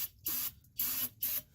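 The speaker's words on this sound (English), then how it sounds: "So I'm going to try spraying it with some brake cleaner." Brake cleaner sprayed onto the rear differential of a first-generation crew cab truck in three loud, close hissing bursts, each about a third of a second long, with short pauses between them.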